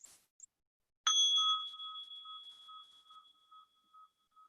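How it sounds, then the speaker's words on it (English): A small singing bowl is struck once after a moment of near silence. Its bright metallic ring sustains and slowly decays over several seconds, with two clear steady tones, close and alone. "This is just a little singing bowl, and it sounds like this."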